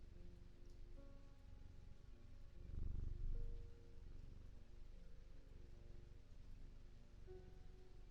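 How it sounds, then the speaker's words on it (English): A cat purrs steadily while being petted in the video game Strange Antiquities, a soft low rumble with a brief louder swell in the middle, over quiet background ambience. "I'm just petting the cat to help me think."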